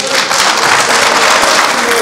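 Assembly audience at a Senegalese basketball federation general meeting applauding by acclamation, a dense, steady wash of clapping from a crowd that fills the whole moment at close range.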